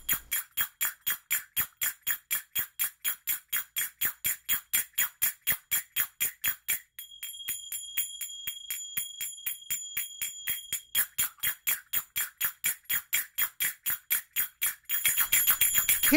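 Zills, small metal finger cymbals, played in a fast rapid rhythm of tight tinkling clicks, with a stretch of longer ringing tones in the middle, close and clear with no voices.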